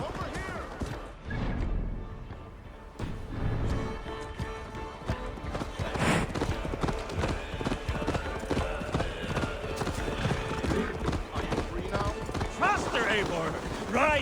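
Rapid hoofbeats of a horse galloping in Assassin's Creed Valhalla, a fast clattering rhythm under shouted game dialogue, with crashing hits and a brief whinny mixed in.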